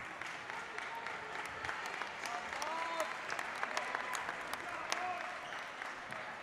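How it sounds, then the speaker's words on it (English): A high school basketball crowd in a gym applauds Bulldogs players leaving the court, a steady, moderately distant patter of clapping that runs throughout, with a commentator talking over it. "Nice round of applause for some Bulldogs coming off"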